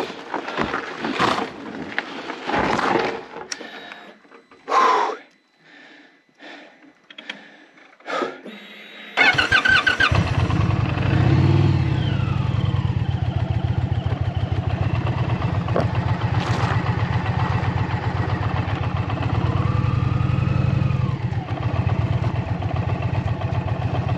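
A motorcycle stuck on a dirt mountain track in the Serra do Caramulo: several short bursts and shuffling sounds first, then the engine fires up at about nine seconds and runs in a loud, steady, close rumble to the end.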